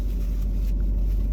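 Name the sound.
car engine running with air conditioning on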